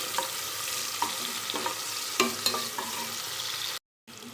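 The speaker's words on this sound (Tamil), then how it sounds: "ஒரு ஆனியன் ஒன்று கட் பண்ணி வச்சுருக்கோம் நீளமாக, அதையும் இதில் சேர்த்துக்கலாம். இது கொஞ்சம் நல்லா பொன்னிறமாக வறுத்து எடுத்துக்கலாம்." Sliced onion fries in a pan for chicken leg-piece biryani, with a steady close sizzle broken by repeated scraping stirs and a brief cut near the end.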